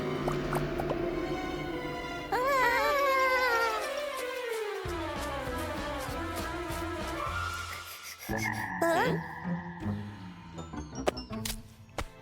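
A frog croaks in a series of wobbly, rising and falling calls, followed by squelchy dripping and tapping sounds.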